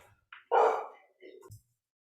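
A pet dog barks once loudly and close, followed by a couple of softer yips and a low grunt, in an otherwise quiet indoor room.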